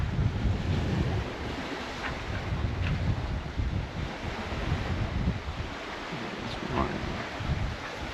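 A Leopard 50 catamaran under sail on open sea between Turks and Caicos and the US Virgin Islands, with constant rushing wind buffeting the microphone over a low, rolling wash of waves against the hulls.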